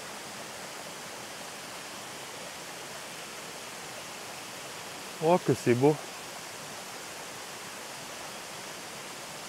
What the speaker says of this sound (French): Et là, regardez la cascade.